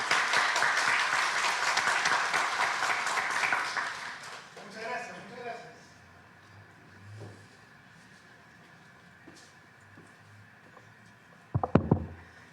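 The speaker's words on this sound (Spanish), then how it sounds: "el doctor Lucas Gersi Murillo, lo recibimos con fuertes aplausos" Audience applause at a congressional forum on the Lava Jato team rings out loudly for about four seconds, then dies away into quiet room tone with a few faint thumps and a brief late knock.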